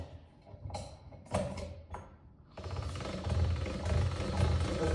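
Pasta machine rolling dough for Italian carnival fritters, with a few scattered mechanical clicks and knocks at first, then a steady, loud grinding rumble of the rollers from about halfway through.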